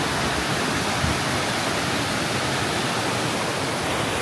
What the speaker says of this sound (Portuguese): O barulho da água é tanta.